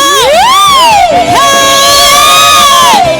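A loud crowd at a church praise and worship service whoops and cheers with rising, sustained shouts, close and energetic, filling the space for a few seconds.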